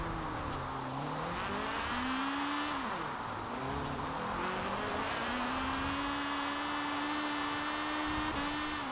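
A front-wheel-drive drift car in Forza Horizon 4 holds a steady, whining engine drone, with its pitch dipping and rising as the revs shift, loud and continuous throughout.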